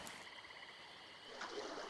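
Frog croaking in ARK: Survival Evolved by a river, a steady layered chorus of rapid trills holding through the clip, swelling slightly toward the end.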